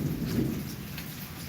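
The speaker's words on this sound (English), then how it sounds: "that thunder is just peaceful as can be." A thunderstorm in east Oklahoma City, with rain falling steadily and a low rumble of thunder rolling underneath, soft and continuous for a brief moment.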